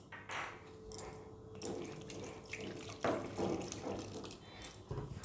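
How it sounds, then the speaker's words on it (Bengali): Bael fruit seeds are rubbed by hand in a bowl of water, giving soft, irregular splashing and sloshing with a few sharper slaps, quiet and close. "বিছুনগুলো আমি সম্পূর্ণটা জলের মধ্যে মেখে নেব"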